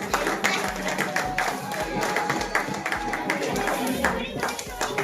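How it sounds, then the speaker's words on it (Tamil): An audience at a community event gives a steady round of fairly even claps for three prize winners. The clapping is moderately close and carries on with murmured crowd chatter underneath. "கைதட்டுங்க"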